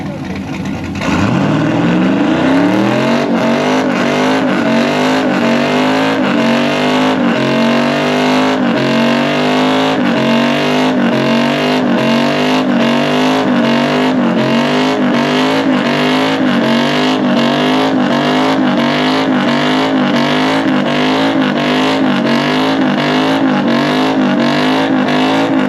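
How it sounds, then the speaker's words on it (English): A Chevrolet C10 truck does a burnout at a burnout contest in Salt Lake City, its engine held at a loud, sustained high rev with rhythmic pulsing and tire roar throughout, close and unbroken. "this is Braxton Rubio at the RacingJunk.com burnout contest"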